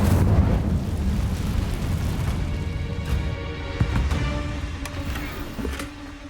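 Casting the Incendio fire spell in Hogwarts Legacy unleashes a loud, roaring burst of flame that swells at the start and gradually fades, with a few sharp crackles and thuds near the end.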